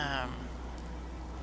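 Rain falls in the Fallout 4 game world, a steady broadband hiss of downpour that sounds close and continuous, with no talk over it.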